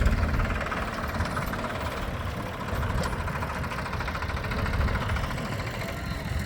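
A tractor engine idles steadily and loudly throughout, a constant low rumble with a faint rhythmic knock.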